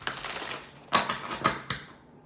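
Tarot cards being shuffled during a love reading, giving a few crisp, close riffling snaps spaced about half a second apart, with a quiet hiss between them.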